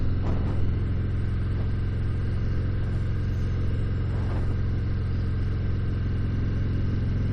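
A 2019 Harley-Davidson FXDR motorcycle rumbles steadily on the road, a deep continuous engine drone with wind noise and no talking.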